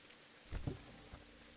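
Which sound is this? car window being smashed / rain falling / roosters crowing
rain falling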